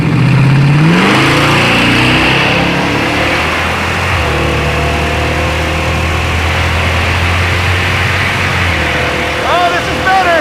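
A Jaguar drag car with a swapped engine accelerates hard down a drag strip, its loud, close engine roar climbing through the revs and then holding a steady, powerful drone with faint voices in the background.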